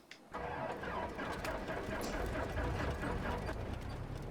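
An aircraft piston engine in the X-Plane 11 flight simulator cranks and catches after a brief quiet start, settling into a steady, rough, close rumble that continues to the end.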